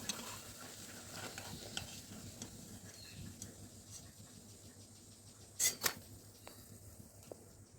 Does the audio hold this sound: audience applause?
no